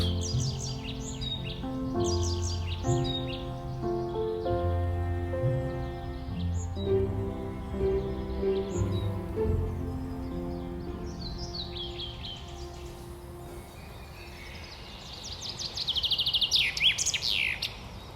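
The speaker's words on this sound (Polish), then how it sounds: "Słychać kolejnego ptaka. Powinien gdzieś siedzieć na gałęzi, ale nie tak wysoko jak drost. Jest. To samiec zięby." A songbird, a male chaffinch, sings repeated bright descending phrases at moderate distance, with other birds chirping faintly in the background.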